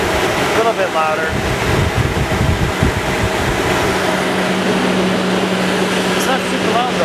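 Up close, a Revolution Hybrid duct vacuum roars steadily with a broad rushing whoosh over a low hum, loud and unbroken throughout.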